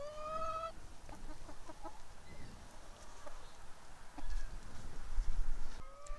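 Home-raised hens in a chicken yard, soft clucks and murmurs scattered throughout with a few louder calls near the end, nearby and moderately loud, no talking.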